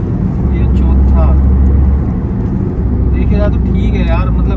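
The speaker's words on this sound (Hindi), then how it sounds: "तो भाई गाड़ी खींच के देखते हैं मैनुअल ट्रांसमिशन पर, ये तीसरा ये चौथा" A 2020 Tata Tiago BS6 pulls forward in manual transmission mode, shifting from third into fourth gear, its engine a steady low drone throughout while someone talks over it.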